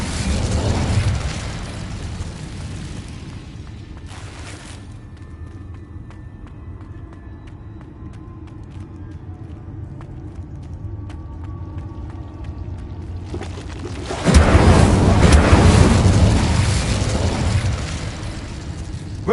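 An Incendio fire spell from a Harry Potter video game, with a low rumbling burst and crackle near the start and a loud, roaring fiery blast late in the clip, steady ambient game sound between.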